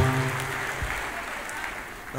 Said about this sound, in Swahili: pigieni Desagu makofi mazuri